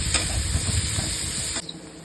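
Chopped onions with green chillies frying in a pan for a sabsige soppu dish, a steady close sizzle and hiss with faint crackles and a brief stir, fairly quiet and with no voices.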